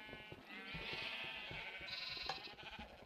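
A baby sheep bleats in a block-building video game, a drawn-out wavering cry heard faintly over soft clicking and background game noise.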